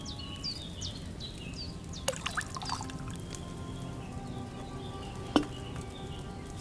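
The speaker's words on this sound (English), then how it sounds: "First, you have to pour the right base into the cauldron." Wine poured into a cauldron in Kingdom Come: Deliverance II makes a faint, steady trickle and splash under chirping birds and a few clinks, with no voices.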